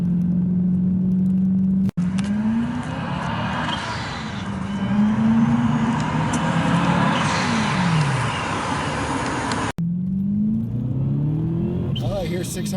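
Supercharged 650-horsepower BMW M3 E92 engine, loud and close, revving in repeated climbing and falling sweeps with a steady rumble beneath, while people talk over it.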